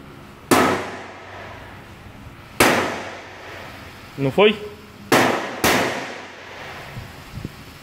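Four sharp, ringing hammer blows on a steel slip yoke of a Toyota Hilux 3.0 land a second or two apart, with a brief clatter in between and a short spoken question.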